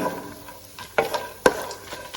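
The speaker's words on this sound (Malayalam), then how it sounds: "പൊട്ടുകട്ടിലയും കപ്പലണ്ടിയും നന്നായിട്ടൊന്ന് ഒന്ന് റോസ്റ്റായി വരുന്ന വരെ ഒന്ന് ഇളക്കി കൊടുക്കണം ഫ്ലെയിം മീഡിയത്തിൽ വെച്ചിട്ട് വറുത്താൽ മതി" Roasted gram and peanuts are stirred in a pan over a medium flame, with a low sizzle and a few distinct scraping knocks of the spoon against the pan.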